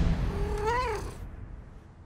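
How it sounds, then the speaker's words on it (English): A cat gives a single drawn-out meow that rises and then falls, heard fairly close over a low rumbling background with no talking. "Now your cat's gonna meow"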